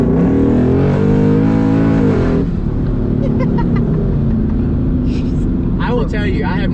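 A turbocharged Mustang GT rolling into the throttle in fourth gear gives a loud, rising engine roar for about two seconds, then settles into a lower rumble as people talk inside the car.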